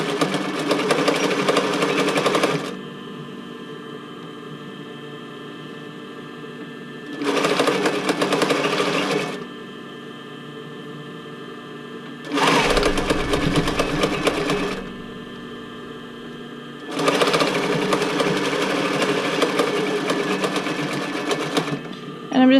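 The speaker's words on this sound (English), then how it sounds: "And I'm just stitching over where I started by about an inch." A sewing machine stitches elastic onto a tank top in four loud, steady bursts of rapid mechanical whirring separated by quieter pauses, with a person talking throughout.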